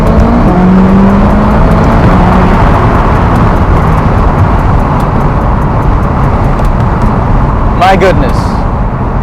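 A McLaren sports car with just over 20,000 miles accelerates on a test drive, a loud, steady engine roar filling the whole stretch with people talking over it from inside the cabin.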